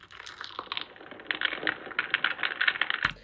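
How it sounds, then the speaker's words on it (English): Small hard candies click and patter onto a hand in a quick, irregular stream of soft taps, slowed down, ending with a sharp knock. "I had that sound of them clicking onto my hand."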